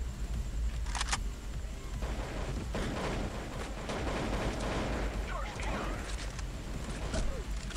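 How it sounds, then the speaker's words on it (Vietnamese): Gunfire from the Vietnamese online shooter Tập Kích, with the Dark Knight M38 rifle in play: repeated sharp shots and bursts, some near and some distant, crackling steadily across the whole stretch under a continuous busy game background. "Tiếng súng lảng vảng ở khu này khá là nhiều luôn"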